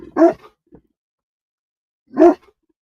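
A big dog gives two loud, close single barks about two seconds apart outdoors in northern country with coyotes nearby, with silence between them.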